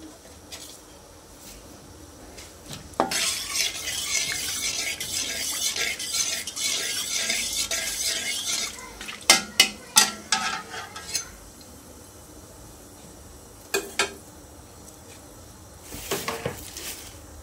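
Cinnamon sticks and torn bay leaf frying in hot oil for lychee pickle, a steady bright sizzle that swells for several seconds, then fades into a few sharp clinks of a utensil against the pan.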